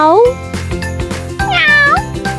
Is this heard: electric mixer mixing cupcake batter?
no